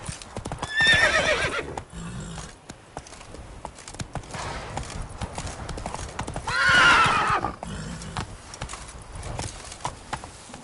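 Roach the horse gallops in The Witcher 3, a steady clip-clop of hooves with two loud whinnies near the start and middle.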